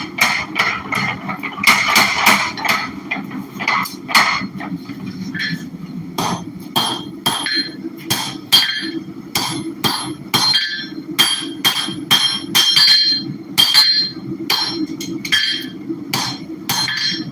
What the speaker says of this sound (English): We're forging some chefs or kitchen knives.